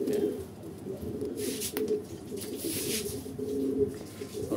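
Pigeons near their coop coo steadily in low, overlapping murmurs, with faint rustling and a few brighter noises over the continuous cooing close by.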